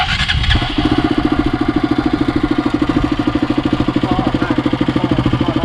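A KTM RC200 sport motorcycle with its stock exhaust runs close by at a steady, throaty idle with a fast pulsing rhythm after a brief louder start.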